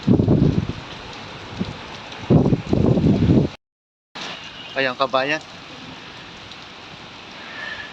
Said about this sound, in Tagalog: hindi muna ako tumawid dahil ang lakas ng ulan